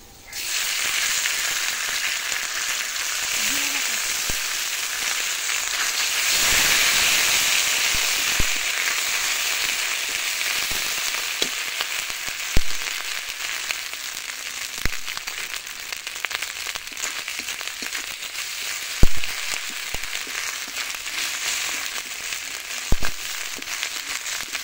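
Ginger paste sizzles and fries with mixed vegetables in a hot pan, a steady loud crackling hiss that runs throughout with occasional pops.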